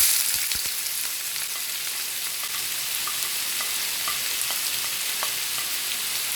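Finely chopped onion and green chilli fry with fenugreek seeds in a pan, giving a loud, steady sizzle with light crackles and occasional stirring scrapes throughout, no voices.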